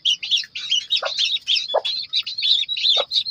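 Newly hatched country chicken chicks peep in a dense, continuous chorus of high, rapid chirps close by, with a few lower calls mixed in and no talking.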